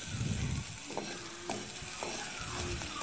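Sliced bitter gourd (tita bhekuri) frying in oil in a pan, a quiet, continuous sizzle broken by a few spoon-stirring scrapes and knocks against the pan, with no talking.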